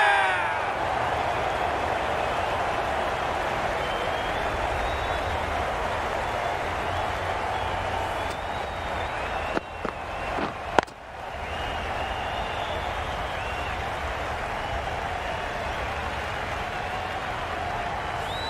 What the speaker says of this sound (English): They will receive now the warmest of receptions from this crowd for a supreme display of batting.